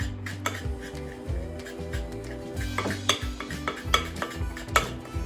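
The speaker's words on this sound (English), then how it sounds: "As you stir it, it's going to get a little bit light and a little bit fluffy, which is exactly what we want to have happen." Cookie dough is beaten in a bowl with a spoon, making rhythmic scraping and clinking strokes that repeat steadily, close and fairly loud.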